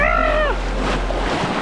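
Rushing river water and wind buffeting during tubing through rapids on the Guadalupe River, a loud continuous wash close to the microphone with a brief whoop-like voice at the start.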